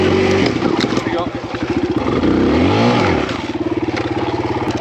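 A Kawasaki KLX 140RF dirt bike engine labours on a hard enduro trail, its loud, close throttle pulsing and revving rising and falling as the bike picks through a tight corner.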